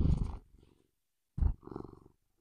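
A house cat purrs close to the microphone in two soft, rumbling breaths separated by a brief pause, fairly quiet and with no other sound around it.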